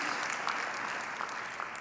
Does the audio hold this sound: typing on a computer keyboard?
no